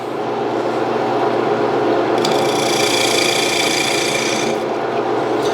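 Wood lathe turning a mortise on a segmented bowl: a steady, close rasping hum of the spinning wood, with a brighter scraping tone in the middle as the tool cuts.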